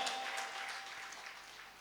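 A congregation claps loudly at a Sunday church service at Calvary Krupa Mandiram, a dense, steady wash of applause that carries through without pause.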